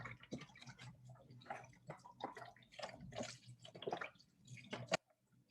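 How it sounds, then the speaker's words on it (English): Broth is poured into a soup pot for a dairy-free broccoli cheese soup, a quiet, uneven glugging and splashing that runs for about five seconds and then stops abruptly. "Let me go ahead and add in pretty much the entire thing of broth"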